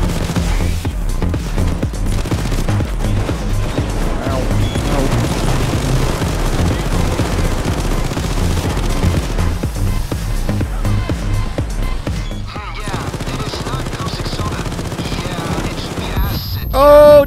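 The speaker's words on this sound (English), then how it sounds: "Over all the cops that we're shooting!" Dense automatic gunfire from shooting police in the video game Payday 2, loud continuous rattling bursts with explosive booms layered throughout.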